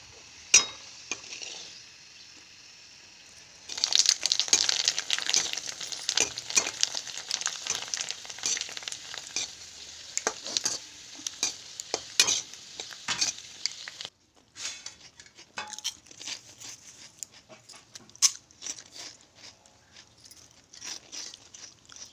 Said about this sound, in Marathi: अशा पद्धतीनं मी पाणीपुरी सगळी तळून घेतली